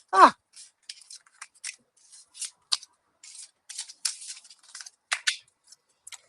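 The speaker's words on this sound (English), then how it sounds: "Let me just get it back together, and I'll pull one of the cards from it." Someone shuffles a tarot deck and pulls a card, giving a series of brisk, dry papery flicks and riffles in irregular bursts, close and fairly crisp. A short vocal sound comes at the very start.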